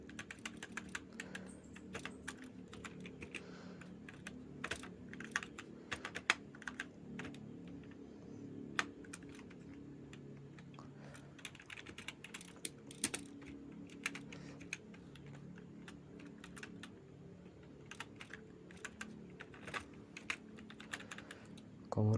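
Steady typing on a computer keyboard during a shell programming lab session, rapid close key clicks in irregular bursts with brief pauses, continuing for over twenty seconds.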